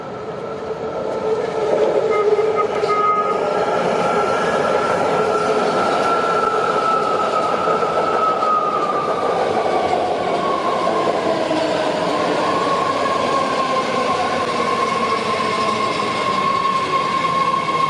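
Southbound Green Line light-rail train to Berryessa, North San Jose, rolling past loudly and steadily, a sustained rumble with droning motor tones and faint wheel squeal, no voices.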